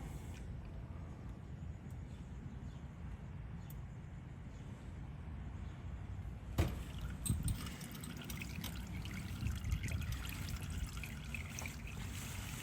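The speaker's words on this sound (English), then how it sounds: "Pull the bike over a little bit just to see if that'll let any more drain out" Engine oil draining from a 2017 Honda Africa Twin DCT motorcycle during an oil change, a quiet steady trickle in a calm space with a few faint knocks and clicks.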